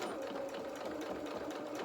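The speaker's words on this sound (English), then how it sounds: "I'm just going to sew through the ends of the straps and just reverse on those" Quiet, steady needle clatter from a sewing machine reverse stitching across strap ends on a small sewn toy's bloomers, a brief close run with no pause.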